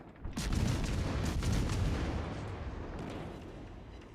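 Naval gunfire in World of Warships: Legends, a heavy booming volley with rolling rumble and crackling bursts, loud early and then slowly fading into a lingering low roar.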